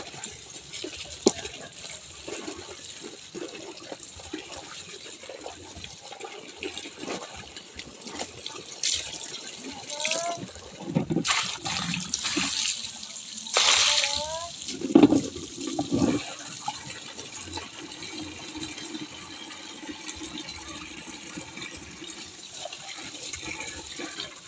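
Spring water gushing and splashing during outdoor bathing and laundry, a steady rushing flow with louder splashes and pours building midway, close and fairly loud, with brief bursts of voices.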